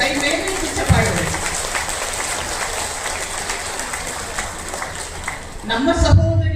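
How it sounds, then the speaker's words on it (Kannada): An audience at a women's self-help group silver jubilee celebration claps with raised hands, a steady mass of applause mixed with crowd noise and speech, swelling louder again near the end. "ಕೈ ಮೇಲೆತ್ತಿ ಚಪ್ಪಾಳೆ ಹೊಡಿ."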